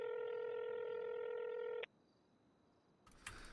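Ringback on an outgoing phone call: one sustained ringing tone cuts off, then a quiet pause before a brief burst of noise as the line changes.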